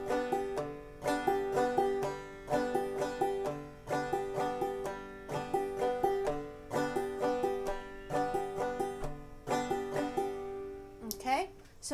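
A banjo plays a quicker three-beat clawhammer pattern, crisp plucks and strums cycling briskly and evenly, close up, ending with a brief fading ring.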